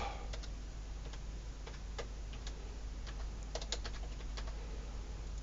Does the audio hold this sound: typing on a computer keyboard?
yes